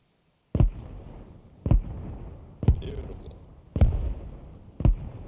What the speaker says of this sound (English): Copy that, rounds inbound.